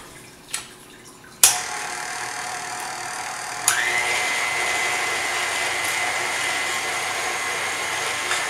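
An electric mixer beats macaron mixture in a home kitchen. It whirs up abruptly after a couple of knocks, then shifts to a louder, steady high-pitched drone.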